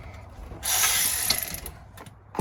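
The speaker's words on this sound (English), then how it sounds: "we're just going to undo that bolt" Ratchet undoing an 8mm bolt on the rear bumper of a Mini R50/R53, a quick run of close clicking and grinding for about two seconds, followed by a brief knock.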